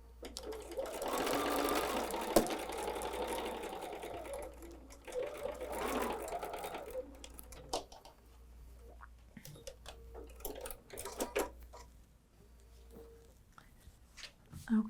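A sewing machine stitches layers of a folded star quilt about an eighth of an inch from the edge, running steadily in a couple of bursts with pauses between, close and moderately loud.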